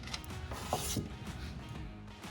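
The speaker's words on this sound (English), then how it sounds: "So once those 3 nuts are off, and then again, that's the 12mm wrench" A 12mm wrench ratchets nuts off the vacuum pump of a JVR Vac310 chamber vacuum sealer, giving a close, quiet run of clicking and metallic rubbing.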